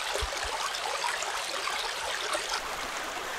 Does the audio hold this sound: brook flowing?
yes